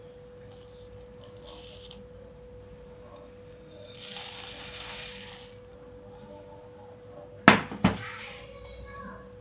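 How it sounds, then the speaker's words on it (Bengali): Fried flattened rice is poured into a bowl with a soft rushing patter, followed by a couple of sharp clinks, against a quiet hum. "আর দিব চিরা ভাজা"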